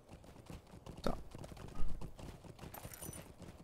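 In the online game Lord of the Rings Online, a horse's hooves clip-clop faintly in an uneven rhythm, with soft clicks and low ambience around them.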